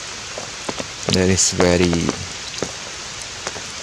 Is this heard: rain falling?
yes